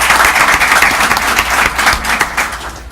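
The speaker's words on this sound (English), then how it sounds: "A round of applause for him," An audience at a city commission meeting applauds newly elected commissioners: dense, sustained clapping from a crowd, fairly close and loud, tapering slightly toward the end.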